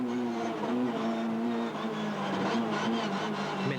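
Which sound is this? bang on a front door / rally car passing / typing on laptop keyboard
rally car passing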